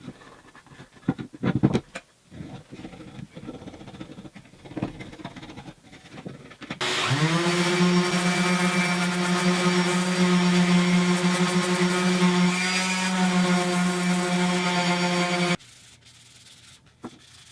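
Putty knife held at a low angle scraping dried glue off a repaired wooden cutting board: a steady, loud, continuous rasping scrape lasting several seconds, preceded by a few faint taps and handling sounds.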